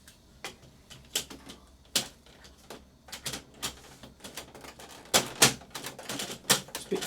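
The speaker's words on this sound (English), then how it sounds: "this paper guide, we'll pop the paper guide back in." Plastic paper guide of an Epson ET-16600 printer being snapped and pushed back into place, giving a series of sharp, close clicks and taps in irregular bursts, with a cluster of louder knocks toward the end and no talking.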